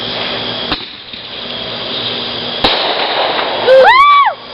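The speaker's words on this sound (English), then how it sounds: "I want to see fireworks." Fireworks at a nighttime backyard display: a sharp bang near the start and another midway over steady outdoor background noise, then a loud burst with rising and falling whistling crackle near the end.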